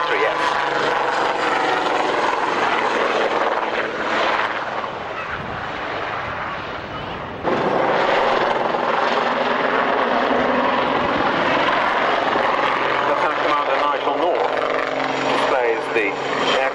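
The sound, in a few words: Westland Aerospatiale Lynx HAS 3S helicopter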